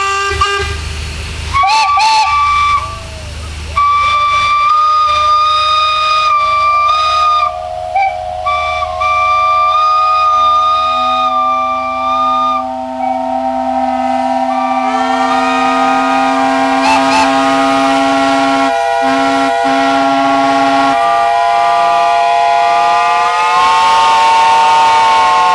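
Several steam engine whistles sound at an outdoor steam rally, loud overlapping sustained tones starting and stopping at different pitches, some long held notes layered together over a background of crowd noise.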